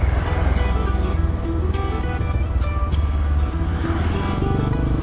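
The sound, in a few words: Honda CRF 150 motorcycle engine revving with clutch half released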